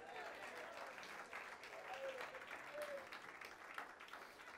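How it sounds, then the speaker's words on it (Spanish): A congregation claps along during a Spanish-language church service, a steady, moderately faint patter of many hands mixed with voices speaking and calling out over it. "Dele palmas al Señor."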